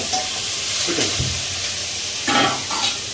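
Beans frying in a pan are stirred during home dinner cooking, giving a steady close sizzle and hiss with a few louder scraping bursts as the spoon moves through them.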